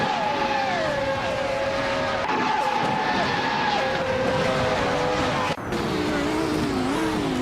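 Race cars roaring around a track in a video game, engines whining and shifting pitch as several cars jostle close together, with a sudden burst near the end and continuous loud engine drone throughout.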